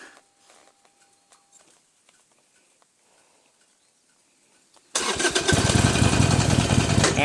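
Harley-Davidson Iron 883N motorcycle on a jungle trek, near-silent at first, then the engine fires up abruptly and settles into a loud, steady, close rumble.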